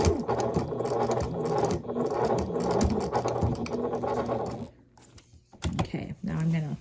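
A sewing machine binds a quilt toward its corner, a close, rattling run of stitches that pauses briefly, with a voice heard near the end.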